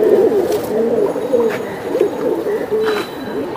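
Pigeons at a bird market coo in repeated, throaty rolling calls, loud and close, with faint background noise and no talk over them.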